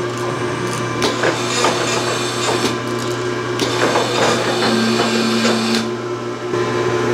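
A machine running a light cleanup pass at raised speed on a steel swivel-jaw vise pin, giving a steady mechanical hum with a constant tone and faint intermittent cutting ticks throughout.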